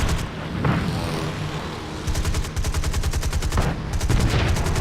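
Rapid bursts of heavy automatic aircraft cannon fire in the video game War Thunder rattle in fast rhythmic volleys over a loud engine roar, close and intense.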